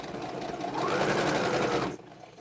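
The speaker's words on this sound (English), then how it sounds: "Let me put my glasses down so I can sew a straighter line." A sewing machine runs steadily while stitching a quilt block, its motor hum swelling louder for about a second before stopping abruptly near the end, heard up close with no talk.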